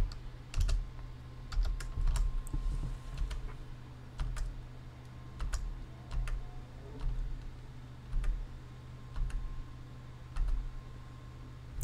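A computer keyboard being typed on, bursts of close, crisp key clicks in irregular clusters with short pauses between them over a low background hum.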